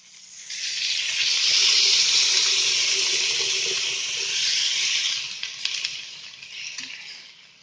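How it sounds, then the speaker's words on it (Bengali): Water pours steadily from a tap into a frying pan of fried vegetables for a Bengali curry, a continuous loud rushing hiss that swells and eases slightly before tapering off near the end, with no voices. "আমরা এবার এতে জল অ্যাড করবো।"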